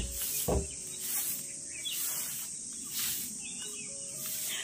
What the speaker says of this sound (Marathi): तर हा जो रातकिड्यांचा आवाज आहे ना, थोडंसं जरा दुर्लक्ष करा.